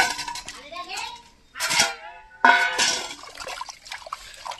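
Star fruit (kamranga) being washed by hand in water, with splashing and sloshing in bursts and a few short clinks, close and moderately loud, with breaks between the bursts.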